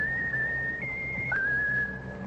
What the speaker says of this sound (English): whistle your favorite tune